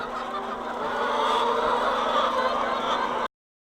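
Rhode Island Red chicken clucking steadily with a busy, continuous texture of fowl calls, fairly close and moderately loud for about three seconds, then cut off abruptly.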